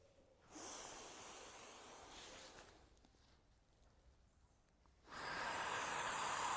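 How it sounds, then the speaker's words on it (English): Forceful audible breathing during the karate kata Hangetsu: a long hissing exhale, a quieter pause, then another strong breath, close and loud with no talking. "They're really strong, audible breathing, so you can really hear the breathing."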